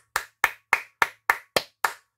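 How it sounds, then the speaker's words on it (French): Seven loud, evenly spaced hand claps from one person, close and dry with sharp attacks and quick decay, alone with no talking. "Suivi de mes célèbres applaudissements"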